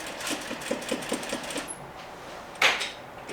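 A domestic sewing machine stitches a chair slip cover in a short burst of rapid, steady stitching that stops partway through, followed by a brief nearby clunk.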